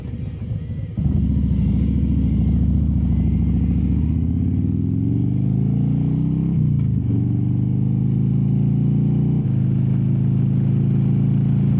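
Motorcycle engine running steadily close up after a start at about one second, with rising and falling pitch as the rider shifts and accelerates, loud and continuous with wind noise and no talk.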